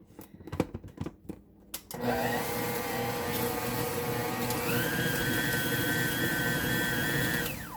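A Nutrimill mixer fitted with a dough hook starts up after a few clunks and runs steadily, a loud continuous motor whir that shifts to a higher speed partway through while mixing a quadruple batch of sugar cookie dough.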